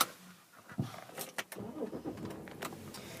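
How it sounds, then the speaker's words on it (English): A grey BMW X6 xDrive 30d diesel with push-button start turns over and catches, with a few clicks and a short cranking burst before the engine settles into a low, steady idle close by. "As you can see there, the car starting perfectly fine."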